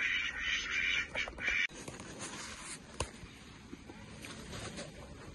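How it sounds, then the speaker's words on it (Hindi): Several ducks quack in a busy cluster near the start at a farmhouse, then scattered calls continue over rustling outdoor background noise. "ये इतनी सारी डक्स हैं"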